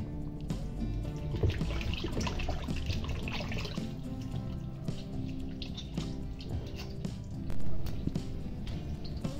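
Raw chicken pieces are washed under running water, with a steady trickle and splash of water over the meat and soft dripping, close and fairly quiet, with no talk.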